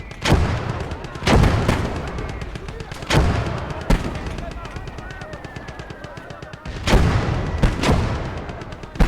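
Mortar fire in the video game Legion of the Damned: several heavy booms land at intervals over a steady rattle of rapid gunfire, loud and close throughout.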